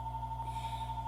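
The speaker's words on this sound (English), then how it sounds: "my phone rings as soon as we go on the air" A phone rings in a radio talk-show studio just as the live broadcast begins: a steady electronic ringing tone held for about a second over a low background hum.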